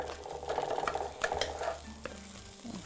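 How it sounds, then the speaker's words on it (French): Tomato paste sautés in a pan for a Brazilian chicken and rice dish, soft sizzling under a series of scraping stirs, with a few light clinks of a utensil against the pan near the end. "Donc, fait revenir la pâte de tomate."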